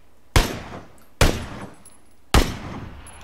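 Three sharp AKM rifle shots in a video game, each a loud, close crack with a short decaying tail, spaced roughly a second apart.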